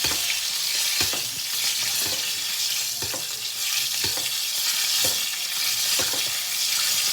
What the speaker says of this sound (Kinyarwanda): ukajya ya mavuta yawe ari kurira ukaba ugenda uyamena